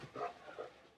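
A dog in a tug-of-war game lets out short, close whining and growly vocal sounds, two quick bursts within a second.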